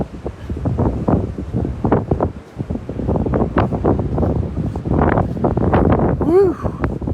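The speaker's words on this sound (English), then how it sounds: "That wind is brisk." Brisk wind buffets the microphone on a beach at Delnor-Wiggins near Wiggins Pass at high tide, a steady rushing roar with gusty bursts running the full length, while someone talks over it.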